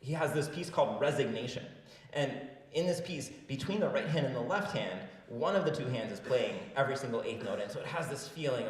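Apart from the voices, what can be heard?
No distinct noise like a dog, phone or traffic.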